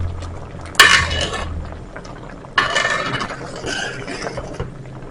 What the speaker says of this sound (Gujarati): બધાને સરસ રીતે મિક્સ કરી દઈએ.